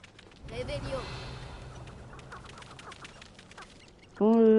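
Video-game chickens cluck faintly in short, scattered bursts against a quiet background, and a voice cuts in loudly near the end.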